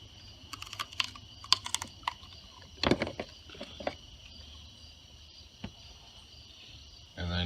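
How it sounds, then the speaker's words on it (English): Tubing cutters snip coolant hose during a Ford 6.0 coolant pressure gauge install, a few close, sharp clicks and crunches in short clusters, with low background noise and a louder rustle at the end. "I'm just going to use some tubing cutters here. They work really well. Take and cut here."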